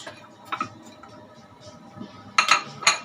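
Pots and dishes clink in a home kitchen as chicken is put in to cook. Scattered light metallic taps lead to two sharper, brighter clanks near the end, close by, with no voices.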